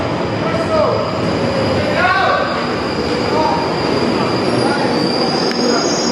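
A train at Kentish Town station on the Midland Main Line rolls through with loud, continuous wheel squeal and rumbling rail noise close by, shrill tones wavering above the roar throughout.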